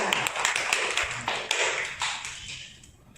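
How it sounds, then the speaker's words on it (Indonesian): A classroom of students claps together on cue, a dense run of quick overlapping claps that fades out toward the end, with no talking over it. "Tepuk tangan semuanya"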